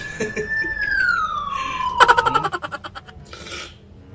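A close siren wails and slides downward in pitch as it passes, then switches to a rapid pulsing yelp before fading.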